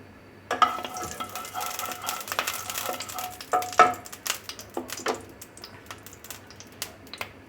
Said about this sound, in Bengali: চিংড়ি মাছগুলোকে দিয়ে হ্যাঁ, ভেজে নেবে